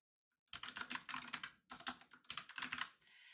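Steady typing on a computer keyboard while entering text into a design tool, in quick bursts of key clicks separated by brief pauses, close and clear with no talking.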